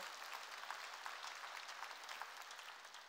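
A church congregation applauds together, a faint, sustained patter of many hands clapping that carries on evenly through the whole stretch with no one speaking.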